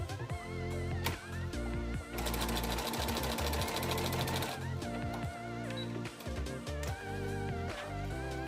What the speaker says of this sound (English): Sew the elastic together by creating a rectangle shape with an X through the middle.